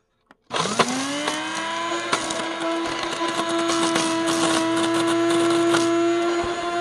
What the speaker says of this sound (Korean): 한번 갈아 보겠습니다